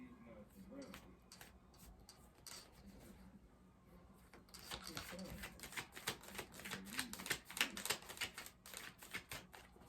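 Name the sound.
shuffling cards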